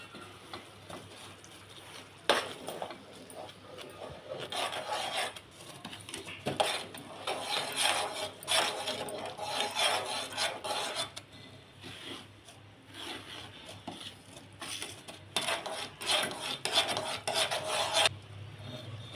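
Semolina is stirred into sugar syrup in a pan while making rava laddu, giving a steady scraping and rasping of a spoon against the pan with irregular bursts of knocks and scrapes, close and moderately loud.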